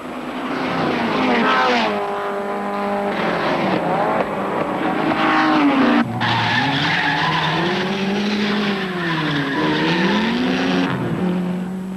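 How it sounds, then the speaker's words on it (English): A 1988 Group N touring car locks its brakes at a circuit, tyres squealing and skidding loudly over a howling engine that rises and falls in pitch as it brakes and accelerates, close and continuous. "Moffat has a locking brake and punishes his tyres"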